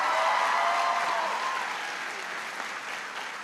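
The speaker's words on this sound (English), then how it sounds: "Please give him a big round of applause." A large crowd at a back-to-school address applauds the mayor of Washington, D.C., loud dense clapping at first that gradually eases off across the stretch.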